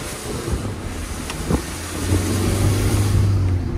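A car engine with a leaking hose revs up and holds a steady higher drone, with a hissing, windy noise running underneath throughout.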